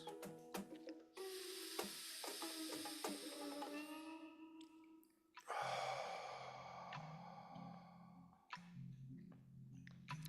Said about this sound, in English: on your next breath, you're going to take a slow, deep inhale back in through your nose